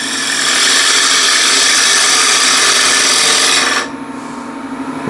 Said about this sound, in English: The lathe is running at 1200 RPM.